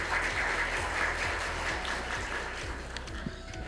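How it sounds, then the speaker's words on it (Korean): Applause from the audience at an academic conference opening ceremony in a hotel ballroom, a soft, steady wash of clapping that carries on before fading slightly at the end. "큰 박수 부탁드립니다."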